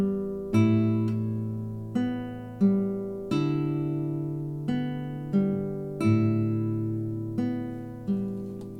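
Fingerpicked guitar, with thumb bass notes alternating with finger-plucked upper notes, plays a slow, even pattern of ringing arpeggiated chords, about a dozen clear attacks each decaying before the next, close and solo.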